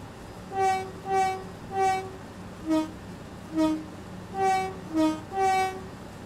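A Class 465 Networker electric train horn in Train Sim World 2 gives seven short two-tone toots in an uneven rhythm, loud and close over a faint background rumble.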